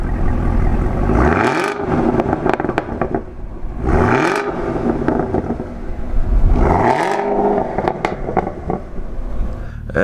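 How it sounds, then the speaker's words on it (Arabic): Exhaust of a 2019 Chevrolet Camaro ZL1 revving hard three times, each rise swelling loud and close before dropping back to a rumbling idle, with no voices. "خلينا نسمع على صوت الإكزوست"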